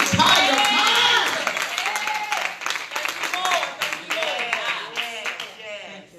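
Church congregation clapping hands during a sermon, a dense burst of applause that fades gradually beneath a preacher's raised, sustained voice.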